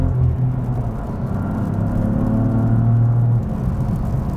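BMW M3/M4 S55 engine with an EPA-compliant exhaust held in its quiet mode, accelerating from third gear: a subdued in-cabin drone rising in pitch, steady and muffled, fading slightly near the end, with no talking.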